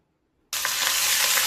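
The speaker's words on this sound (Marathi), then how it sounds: "मग त्यात आपण फोडणीला कढीपत्ता टाकून घेऊ" Curry leaves dropped into hot oil with cumin and mustard seeds for tempering, silence breaking into a sudden loud, steady hissing sizzle that continues close by, no voices.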